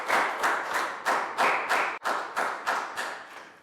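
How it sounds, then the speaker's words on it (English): A class of young schoolchildren claps in a round of applause, about a dozen distinct, evenly spaced bursts of clapping in a quick steady rhythm, close and fairly loud with no talking. "Round of applause."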